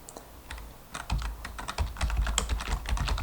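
Fast keystrokes on a computer keyboard while code is typed for a Pygame puzzle game, an irregular run of close, crisp clicks and clacks with no voices.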